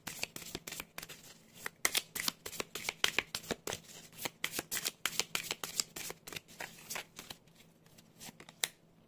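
A deck of Queen Moon oracle cards is shuffled by hand up close, making dense, crisp crackling riffles and taps in an irregular, continuous rhythm.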